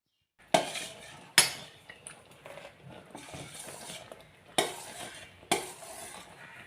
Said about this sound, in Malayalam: അടിപിടിക്കാണ്ട് ഇങ്ങനെ ഇളക്കിക്കൊണ്ടിരിക്കണം